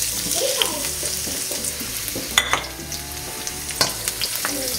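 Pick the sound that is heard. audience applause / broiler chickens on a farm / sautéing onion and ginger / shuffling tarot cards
sautéing onion and ginger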